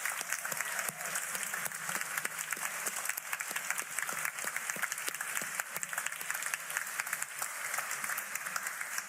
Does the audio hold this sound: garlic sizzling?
no